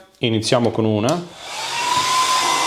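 A heat gun runs on a portable power station under a stress test, giving a steady loud airy roar that builds after a short burst of talk and then holds continuously.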